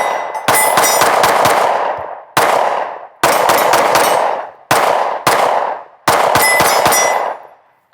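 A Sig Sauer P320 XCARRY pistol firing 115 grain FMJ rounds: several sharp, loud shots in uneven bursts, each ringing out and decaying between groups, with no talking.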